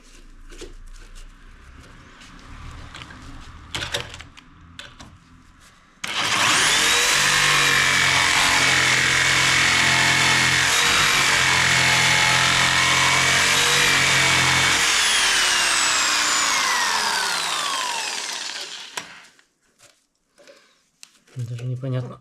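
Loud, steady whine of a power saw cutting wood during preparation to dismantle a fireplace and move a beam, running continuously for about twelve seconds after a quieter start, then stopping, with voices before and after.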